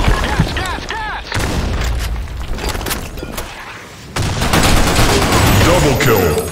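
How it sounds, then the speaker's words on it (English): Video game battle in a sandstorm map with grenade explosions and bursts of gunfire, loud booming blasts under shouted voice lines, with a heavy explosion near the end. "Grenade! Fire in the hole! Grenade!"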